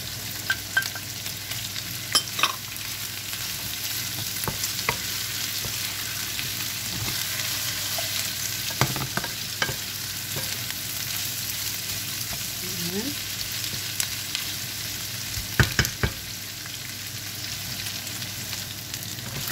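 Garlic cloves sautéing in a hot pan, a steady soft sizzle running throughout with occasional clinks and scrapes of stirring, close and moderately loud with no talking.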